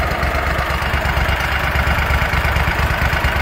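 A warmed-up small engine idling at about 1,000 RPM, a loud, steady, close rumble with a fast even pulse and no speech.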